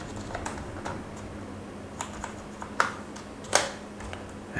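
Typing code on a computer keyboard during a Python programming lesson: scattered, uneven clicks and taps at close range, a few sharper key strikes standing out, with no talk.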